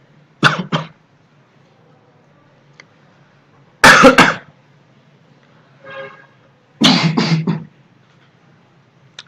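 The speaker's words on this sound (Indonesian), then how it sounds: "Maaf lagi batuk." Three separate loud, close coughing bursts from one person, spaced a few seconds apart in a quiet room, with a fainter throat sound between the second and third.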